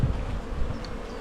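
Honey bees move across the frames of an open hive during an inspection, giving a faint, even buzzing hum with no other sounds over it.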